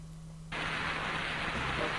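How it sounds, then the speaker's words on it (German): Rain in the video game Zelda Randomizer starts abruptly as a steady, dense hiss of falling water that holds evenly loud over a faint low hum, with no talking. "Regen."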